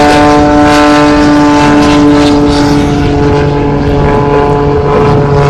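An aerobatic propeller airplane at an air show drones loud and steady for several seconds, its engine and propeller producing a strong harmonic buzz.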